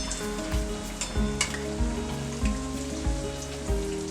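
Malvani-style bhaji vadas deep-frying in hot oil give a steady, close crackling sizzle with small popping bursts, heard alone without talk.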